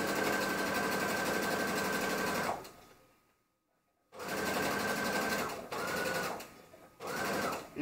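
A sewing machine stitches fabric along an iron-pressed crease for high-waisted shorts, running loud and steady, stopping for about a second and a half, then restarting in several short bursts.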